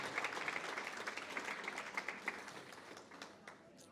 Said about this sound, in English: can we just give a big round of applause to all of our sponsors and all of our supporters?